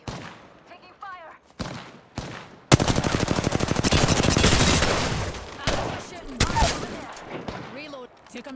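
Sustained automatic gunfire in the Apex Legends video game, a dense rapid burst lasting several seconds, loud and close, with short shots and game voice callouts before and after.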